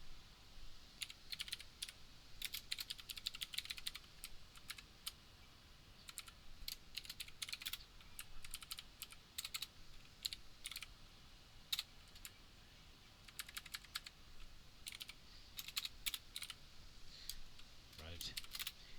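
Fingers type on a computer keyboard in quiet bursts of rapid clicking keystrokes separated by short pauses, faint and close, with no talking.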